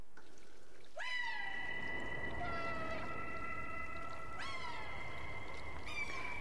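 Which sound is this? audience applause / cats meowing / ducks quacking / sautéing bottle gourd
cats meowing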